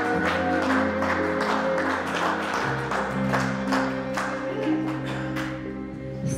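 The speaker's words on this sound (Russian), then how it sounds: "Поддерживая молодых бурными овациями." Guests clap for a newly married couple right after the ring exchange at a civil registry wedding ceremony, steady applause with sustained tonal music underneath.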